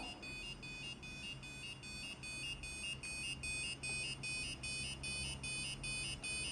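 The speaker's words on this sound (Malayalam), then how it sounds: "നമ്മുടെ ബസർ വർക്ക് ചെയ്യുന്ന സൗണ്ടായി കേൾക്കുന്നത് കേട്ടോ" Piezo buzzer driven by an Arduino sounding an alarm, a faint, shrill electronic tone pulsing in a steady rapid on-off pattern throughout, heard alone without any talking.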